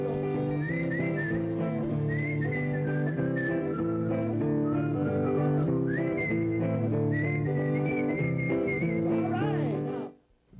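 Whistling at the Colonial Days Fair in 1991: a bright, sustained whistled melody carries over a steady tonal backdrop for about ten seconds before cutting off abruptly.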